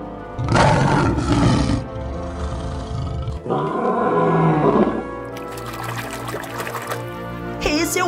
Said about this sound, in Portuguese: Esse é o rei da selva. É o leão.